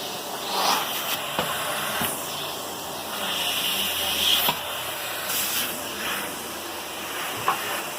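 A Sebo vacuum cleaner runs with suction through its hose, a steady airy hiss with a whooshing rush and a few small clicks and knocks, fairly loud and continuous.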